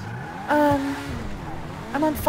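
Ghost car in GTA Online: two short bursts of revving engine with a rising tone, about a second and a half apart, close and loud over a quieter game background, with a voice talking.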